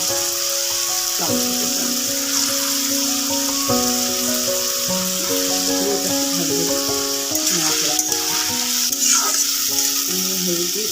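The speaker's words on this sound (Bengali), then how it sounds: "কোচানো একটু লঙ্কা আমি দিয়ে দিচ্ছি কড়াতে, একটু রসুন, আদা যেটা আমি কষিয়ে রেখেছিলাম" Green chili, garlic and ginger frying in a wok make a constant close sizzle and hiss, with occasional stirring strokes beneath steady tonal background music.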